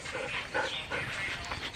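Several dogs pant and yip as they run around a campsite during a Memorial Day camping trip, with quick breathy panting and brief whimpers repeating closely throughout, moderately quiet and without talk.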